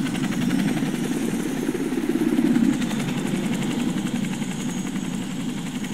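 An aircraft's engines power up steadily for takeoff in a scene from The Suicide Squad, a loud, continuous rotor-like drone with a low rumble that swells slightly midway and holds without pause.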